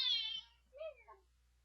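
A young kitten meowing, recovering from an illness, a quiet high-pitched drawn-out mew followed by a second shorter, falling meow, faint and close with no talking.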